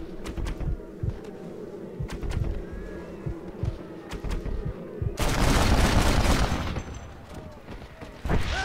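Red Dead Redemption gameplay with repeated gunshots cracking out in an irregular rhythm, then a sustained burst of heavy fire near the end, with birds cooing and people talking in the background.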